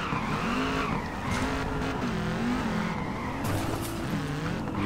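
Tires squeal and skid steadily as cars drift in Peak Angle, the online drift racing game, with an old Mazda among them. Engines whine and wavering screeches carry on without a break.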